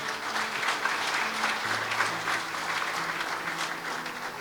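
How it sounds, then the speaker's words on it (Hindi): Guests at a Christian wedding service applaud together, a steady, fairly soft wash of clapping from a room-sized crowd with faint sustained musical tones underneath. "जोरदार तालियां बजा दें।"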